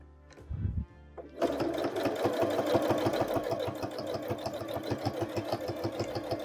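Sewing machine stitching along the edge of a small quilted holiday mug rug, starting after a brief pause and then running steadily with a fast, even mechanical chatter close by.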